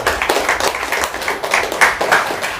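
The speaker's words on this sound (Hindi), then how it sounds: "डेंटो डॉग के लिए एक बार जोरदार ताली बजाई तो बताइए" Loud audience clapping at a live sales talk for a dental product, a continuous dense patter of many hands with slightly rhythmic surges, with no talk over it.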